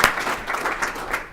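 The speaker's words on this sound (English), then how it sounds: "a round of applause for our moderator, Mike McIntyre" An audience at a civic club luncheon applauds the moderator in a brief, steady wash of clapping.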